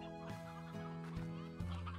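Briar hens in the video game Slime Rancher cluck repeatedly in a steady, rhythmic series of clucks, close and moderately loud over a busy game background, with no talking.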